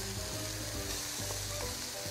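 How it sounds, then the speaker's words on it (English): Garlic and onions sauté in hot cooking oil for lechon paksiw, a dense, loud, continuous sizzle with faint stirring, and no voices. "We'll start sauteing garlic."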